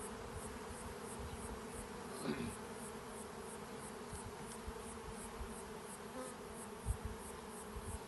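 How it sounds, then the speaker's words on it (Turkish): Honeybees buzz at a hive in Tekirdağ, a steady dense drone of many insects close by with a brief louder pass near the middle and a soft knock toward the end. "Arı burada."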